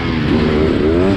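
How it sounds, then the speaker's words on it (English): A Beta 300RR two-stroke dirt bike engine roars continuously at three-quarter throttle, a loud, rough, buzzy drone heard close throughout with no voices. "Blowing the rear tire off on 3/4 throttle."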